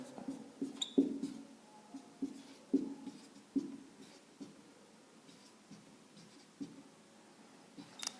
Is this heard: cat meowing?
no